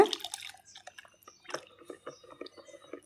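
Water is poured into fermented batter and buttermilk and stirred to make a plant spray for garden crops, giving close, sparse wet drips, splashes and squishy sloshing in an irregular rhythm.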